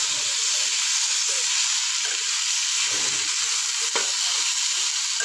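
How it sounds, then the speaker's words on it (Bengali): Mushrooms sautéing in a pan of oil previously used for frying potatoes, with onion and tomato, giving a steady, close, bright sizzle throughout with a few faint stirring scrapes and no talking. "এবারে মাশরুমটাকে কিছু সময় কষিয়ে নেব।"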